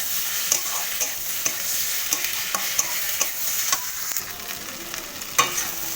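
Dried fish is stir-fried together with fried eggplant and beans, oil hissing steadily in the pan while a spatula scrapes and clacks at irregular intervals, fairly close with no talking.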